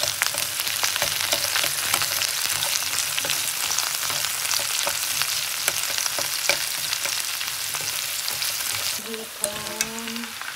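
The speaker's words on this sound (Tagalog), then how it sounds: "Haluin natin si asparagus na maayos at saka mushroom with carrot. Haluin natin ang sibuyas Bombay." Asparagus, mushroom, carrot, onion and garlic stir-fried in a hot pan, a loud dense sizzle with steady stirring clicks, close up, easing slightly near the end.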